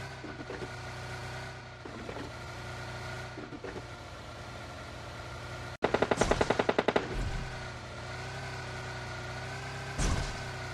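Bursts of automatic gunfire crack around the stadium in the battle-royale game PUBG Lite, a sharp rapid volley midway with a few isolated shots before and after, over a steady engine-like drone.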